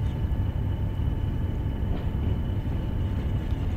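A British Rail heavy freight train from Train Sim World runs steadily on an uphill grade, with a continuous low rumbling drone, a faint engine hum and no distinct clicks or pauses.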